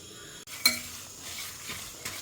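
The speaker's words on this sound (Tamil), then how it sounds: "இது எல்லாத்தையுமே ஒன்றா போட்டு வறுத்துண்டுடலாம்" Spices dry roasting together in a hot pan, with light scraping and stirring, a sharp metallic clink of a utensil against the pan, and soft rustling of the seeds, quiet and close.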